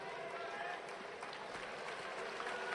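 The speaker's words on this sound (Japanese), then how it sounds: "日本武道館大拍手" Applause from the crowd filling the Nippon Budokan arena during a national judo championship bout in Tokyo, a steady wash of clapping heard under a commentator's voice.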